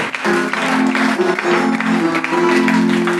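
A church congregation applauding and cheering in a steady burst of clapping, loud and close, with voices and tonal hum mixed in underneath.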